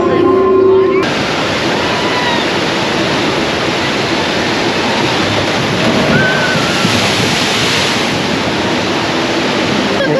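Loud, steady rush of water on a fast log flume ride at Universal Studios, a dense roaring wash that fills the whole clip after a brief opening moment, with faint voices mixed underneath.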